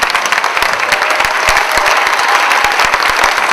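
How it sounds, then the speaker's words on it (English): A standing audience at a Berkeley forum on implicit bias bursts into loud, close applause, with sharp individual claps standing out over a thick, even wash of hand claps. "So let's stand and give them applause."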